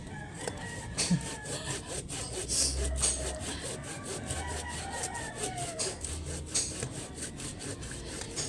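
A hand saw rasps through wood in steady back-and-forth strokes, a rhythmic scratchy grind with faint rooster crows and birds in the distance.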